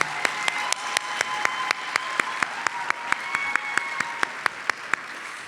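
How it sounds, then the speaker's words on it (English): An audience applauds at a black-and-white ball, continuous dense clapping that fills the room, with a few sharper individual claps cutting through at a regular pace, moderately loud and close, no voices. "Let's give her a round of applause,"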